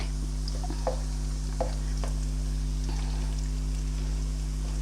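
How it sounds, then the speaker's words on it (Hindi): Soft, steady sizzling of garlic frying in oil, with a few light clicks and stirring taps, a low constant hum underneath and no talking. "ये देखिए ये लहसुन फ्राई हो रहा है"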